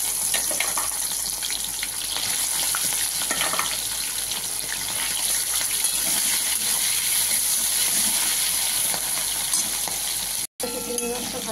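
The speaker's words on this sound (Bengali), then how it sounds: "তেলটা গরম হলে চিংড়ি মাছটা ভেজে নেবো।" Prawns coated in salt and turmeric frying in hot oil, giving a continuous close sizzle with light stirring clatter that fills the clip and drops out for a moment near the end.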